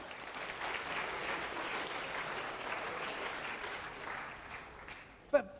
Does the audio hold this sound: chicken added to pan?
no